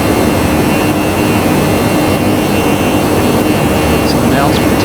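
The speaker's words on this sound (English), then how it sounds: "And now the plane will accelerate, so you can hear the engine." A Toliss A321 jet engine accelerating in X-Plane 11 gives a loud, continuous broadband roar with steady whine tones that hold constant throughout, dense and unbroken with no pauses.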